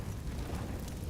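A flashbang grenade detonates in Counter-Strike: Global Offensive, a loud, dense burst with a broad roar that fills the whole short moment, no voices over it.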